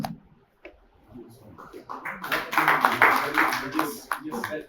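Audience applause at a university MoU exchange ceremony in Belagavi, starting thin and scattered, then swelling into full, sustained clapping from a sizeable crowd that carries on to the end.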